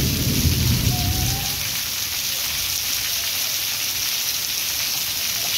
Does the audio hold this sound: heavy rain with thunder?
yes